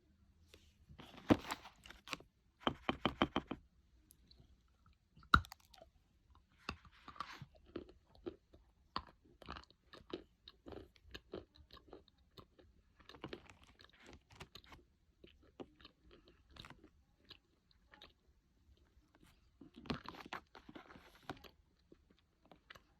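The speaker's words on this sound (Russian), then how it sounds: "Откусывается с небольшим трудом." Bashkir edible clay sticks with lavender bitten and chewed close-up, dull dry crunches and snaps in scattered bursts with quieter crumbly chewing between, no talking.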